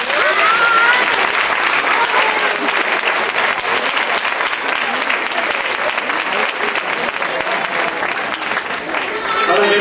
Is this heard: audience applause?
yes